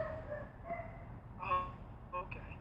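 A neighbour's dog gives a few scattered, distant barks, faint and irregular against a low background hum.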